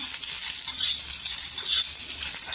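Steady hiss and crackle of onions roasting on a griddle, constant and close, with faint scraping underneath and no voices.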